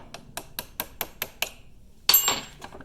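Light, evenly spaced metallic taps ring out as a hammer strikes a screwdriver held against a RZR prop shaft U-joint C-clip. After a short pause comes a louder, ringing clank, then a few quieter taps, all close up.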